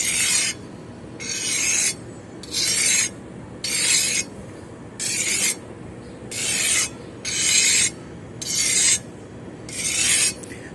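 An old knife is drawn in long, even strokes across a fine sharpener, a rasping scrape repeated about nine times at a steady rhythm with short pauses between passes, close and clear.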